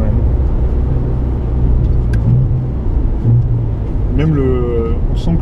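A Renault Clio V6 phase 1 with its stock exhaust gives a steady, loud low engine rumble throughout, while people talk over it.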